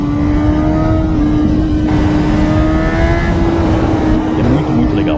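A Honda CB 1000 Hornet motorcycle engine holds a steady, loud drone with a sustained tone, rising slightly toward the end as if revving, heard close up with no voices.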